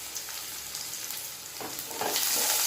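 Onion, garlic and green chili frying in a pan for potato kuruma, a close, bright crackling sizzle that swells louder toward the end, with a brief stir midway and no talking.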